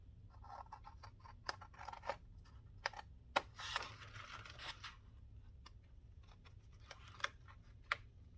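Scissors snip through folded paper for an autumn-themed folio, with sharp, scattered close cuts and rustling at an irregular pace, quiet and without speech.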